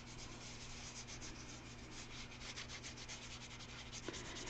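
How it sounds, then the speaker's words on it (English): An ink pad rubbed gently across a paper-crafting surface, giving a soft, steady scratchy rubbing that runs evenly throughout at low volume, with no talking. "I'm just going to take my little ink pad. Okay. And I'm just going to gently rub it on here."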